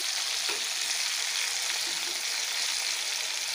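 Shrimp coated with turmeric and salt fry in hot oil, making a dense, even, loud sizzle that holds steady throughout without pauses or voices.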